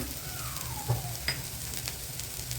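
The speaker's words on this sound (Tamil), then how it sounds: "நல்லா எண்ணெயிலே வதக்கிட்டேன்" Ginger garlic paste with turmeric, cumin powder, chili powder and garam masala fries steadily in oil for masala idli, a continuous soft sizzle with a faint stir or two.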